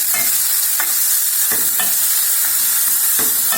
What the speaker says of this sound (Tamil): இதை போட்டு நல்லா வதக்கிடலாம்